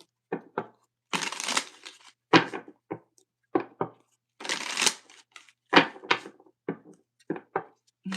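Graffiti Tarot cards are shuffled by hand up close in a series of crisp riffling bursts and soft papery slaps, irregular in rhythm, with brief gaps between each handful and no voices.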